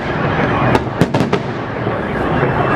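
Victory Day fireworks salute on May 9, 2013: a quick cluster of sharp bangs and pops bursts out over a steady roar of background noise, with some voices present.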